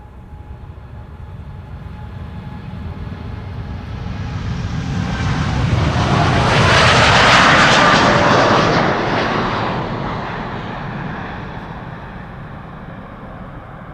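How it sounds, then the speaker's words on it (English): A 10-year-old American Airlines Boeing 787-8 Dreamliner departs Amsterdam Schiphol, its jet engines roaring up from a distant rumble to a loud broadband peak as it passes, then fading away; no one speaks. "this is American Airlines flight 203 to Philadelphia, Pennsylvania. It is a 7878 Dreamliner."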